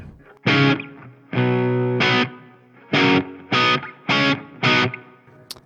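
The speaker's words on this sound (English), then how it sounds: "It's just a spring reverb." Several separate distorted electric guitar chords through a Marshall MG100HCFX amp strike in a loose rhythm, each followed by a short springy spring-reverb decay, with no voices.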